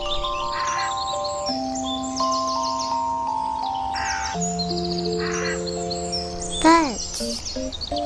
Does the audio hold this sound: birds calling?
yes